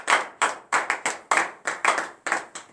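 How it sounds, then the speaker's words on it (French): A congregation at a Saturday morning prayer service in Comè, Benin claps in a quick, rhythmic burst of about ten sharp, close hand claps with no voices. "acclamons très très fort le nom de Dieu."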